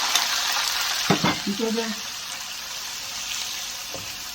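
Ground onion frying in hot oil for beef karahi, a strong steady sizzle with spoon scrapes and stirring knocks in the first couple of seconds and a brief spoken remark over it.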